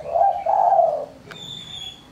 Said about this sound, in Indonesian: burung tekukur suara kecil ataupun suara mersik